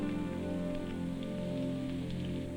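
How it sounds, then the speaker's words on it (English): Rain showers patter steadily on tents outdoors, an even, soft hiss of drops that is fairly faint and continuous, with no talking. "there were bursts of rain that seemed determined to come through the tents."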